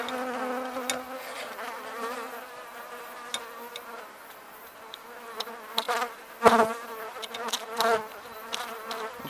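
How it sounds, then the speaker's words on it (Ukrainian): Honey bees buzz close by at an apiary in a continuous drone, with wingbeats rising and falling and brief louder passes as a bee comes near. "ще бджола пристала"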